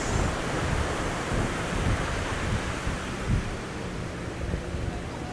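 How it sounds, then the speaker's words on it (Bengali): Arabian Sea surf washes onto Calangute Beach in Goa as a steady, broad, close roar with wind buffeting the microphone and soft rumbles, and no voices. "এই আরব সাগরের সমুদ্রের ঢেউগুলো"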